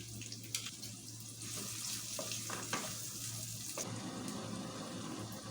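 Cardamom, cinnamon, bay leaf and chopped onion frying in oil in a pan for a mutton kala bhuna, a steady close hiss and sizzle with faint clinks, no talking.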